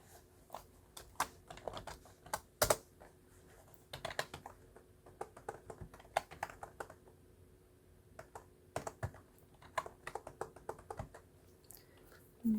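Typing on a computer keyboard while entering data into an Excel spreadsheet: irregular bursts of crisp, close key clicks with short pauses between runs, and no speech.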